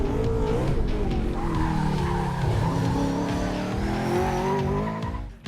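A Mitsubishi Evo launching hard at a speed stop on a road course, with loud continuous engine roar and skidding tire squeal sustained throughout, fading slightly at the end.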